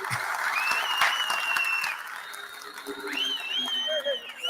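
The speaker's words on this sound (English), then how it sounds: "You deserve a round of applause" A crowd bursts into steady applause with high whistles cutting through, loud and continuous for the whole stretch.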